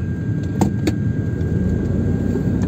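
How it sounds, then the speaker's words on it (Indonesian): Steady low road-vehicle rumble of a rush-hour traffic jam heard from inside a classic Mercedes-Benz W202, with a couple of brief faint clicks over the continuous drone. "Macet jam pulang kerja ini."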